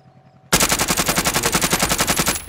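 Loud, rapid automatic gunfire from a video game bursts in abruptly after a quiet moment, a steady rattling stream of shots lasting about two seconds.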